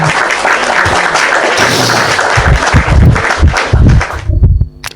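A crowd claps together for about four seconds, a dense, fairly loud burst of applause that trails off abruptly at the end.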